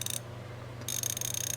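A Koken 3/8-inch ratchet fitted with a 19 mm socket clicks in quick, even bursts: a short run of sharp ticks, a brief pause, then a longer steady ratcheting stretch, close and clear with no talking.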